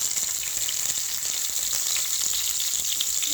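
Onions and dried red chillies frying in oil in a pan, a continuous even hiss of sizzling close up, with no voices.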